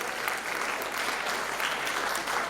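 Large audience at a West African Examinations Council ceremony in Freetown, Sierra Leone, clapping continuously for a top candidate; even, sustained applause at moderate level with no speech.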